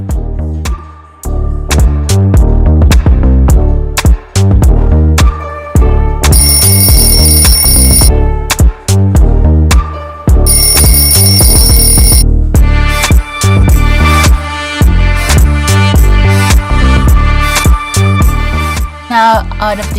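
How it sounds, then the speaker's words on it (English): Loud, rapid electronic beeping and ringing tones of an exercise timer bell repeat in quick succession like an alarm going off, continuing insistently throughout. "you're gonna hold it until you hear the bell"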